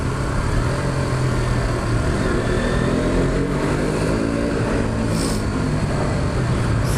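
A 2015 KTM RC 125 motorcycle's exhaust heard while riding, a loud steady single-cylinder drone with wind rush and slight rises in engine pitch, continuous throughout with no talking.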